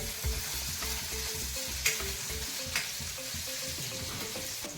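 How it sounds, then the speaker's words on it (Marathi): Cumin seeds and finely chopped green chillies sautéing in hot oil for a potato fasting paratha filling, a steady close sizzle with occasional stirring clicks and scrapes throughout. "या जिरे आणि मिरच्या छान परतून घेऊया"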